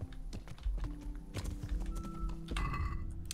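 A horse in the medieval game Kingdom Come: Deliverance clip-clops along at a walking pace, with close, uneven hoof thuds over a soft bed of ambient game sound and a brief tonal chime near the end.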